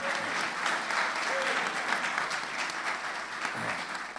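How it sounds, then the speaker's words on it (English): A conference audience at an economic development event gives a sustained round of applause for the panelists, a steady, dense clapping that fills the room with no one speaking over it. "I really wanted us just to give a quick round of applause for all of our panelists."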